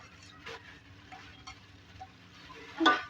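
A spoon scrapes and stirs spiced potato masala with nutmeg, cardamom, mint and green chillies in a pan, faint gentle scrapes over a soft sizzle, ending in one louder scrape.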